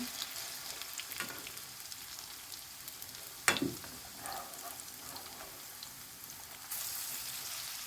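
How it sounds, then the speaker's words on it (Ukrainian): Quiet, steady sizzling of potato pancakes frying in a pan over moderate heat, with a brief clatter partway through. "І на помірному вогні хай смажиться."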